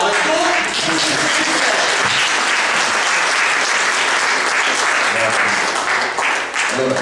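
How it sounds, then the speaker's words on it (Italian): A room at a political meeting in Ancona breaks into loud, sustained applause to welcome a candidate, dense clapping that stays even for several seconds and thins slightly toward the end. "E allora accogliamo intanto con un applauso Stefano e gli chiediamo: e tu?"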